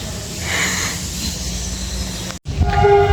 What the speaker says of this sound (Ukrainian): О, а це електричка, ні?